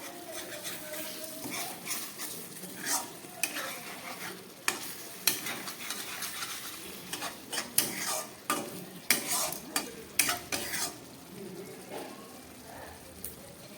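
Catla fish belly pieces cooking in a mustard and poppy seed sauce are stirred in a pan over low gas: soft bubbling sizzle with repeated sharp scrapes and clinks of a spoon against the pan, growing busier toward the middle.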